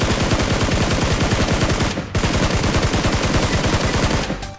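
Sustained automatic gunfire from a video game shooting at a tank, a fast, even rattle of loud shots running almost nonstop, with one short pause midway.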